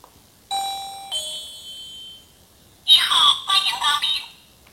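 Motion-sensor electronic guest-saluting doorbell chiming two clear tones, then playing a bright recorded Chinese greeting with melodic electronic chimes, close and loud.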